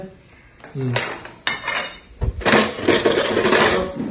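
Plates and spoons clatter at breakfast, with ceramic clinks and metallic cutlery rattles in quick uneven bursts that build into a busy, close jangle.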